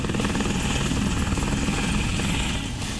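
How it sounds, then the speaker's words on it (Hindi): A Rudra helicopter flies low over the 77th Republic Day parade, its rotor producing a loud, continuous throbbing roar that holds steady for the whole stretch with no voices. "परेड की शुरुआत हुई रुद्र हेलीकॉप्टर से,"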